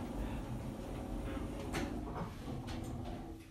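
Lift doors in Fareham slide shut with a rumbling, scraping glide and a couple of soft knocks partway through, heard close against a steady hum of machinery.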